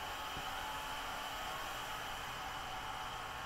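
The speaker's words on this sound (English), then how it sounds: "Can dryer" A can dryer on a brewery canning line gives a steady, loud blowing hiss like a powerful air dryer without pause, a constant broadband roar of industrial machinery.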